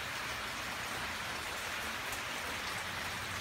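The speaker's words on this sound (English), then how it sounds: "Well, it's raining pretty good out here." Steady rain pours down outdoors, a dense, even hiss of drops striking surfaces with no pauses or voices.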